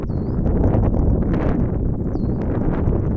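Wind blowing steadily into the microphone outdoors in snow-covered nature, a rough, gusty rumble with a few faint high chirps above it, continuous throughout.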